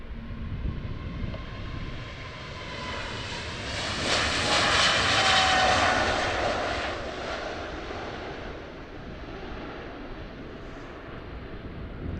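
A heavy Boeing 777 cargo plane at Amsterdam airport, its engines a loud broad roar that builds toward the middle and slowly fades, with wind buffeting the microphone underneath.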